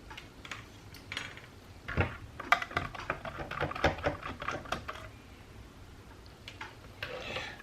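A small screwdriver works two screws loose on a DJI Mavic Air 2 drone during a repair: faint, close clicks and scrapes in irregular bursts, with quiet gaps between turns.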